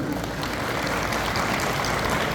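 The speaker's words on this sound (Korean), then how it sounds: "여러분 축하의 박수 한번 보내주시면 어떻겠습니까?" A crowd at a Children's Day ceremony in Nonsan applauds in congratulation, a dense, continuous wash of clapping at steady loudness heard briefly and fairly close.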